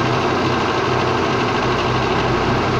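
A Toyota car engine idles steadily while its air conditioning is recharged with R134a refrigerant, a close, loud, continuous low rumble with even vibration and no speech.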